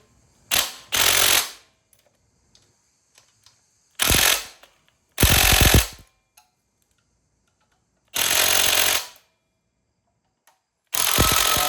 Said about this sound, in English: So let's tighten these 13 mils down real quick.